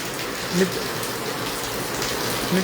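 Heavy rain falls in Hisar, a steady broad wash of downpour with a couple of faint brief tones over it and no clear talk.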